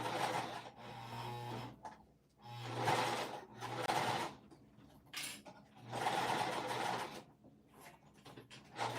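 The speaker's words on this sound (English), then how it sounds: "So I'm just running this basting stitch pretty quickly around" A sewing machine runs a basting stitch around a bag in quick bursts, each run lasting a second or two and separated by short pauses, loud and close.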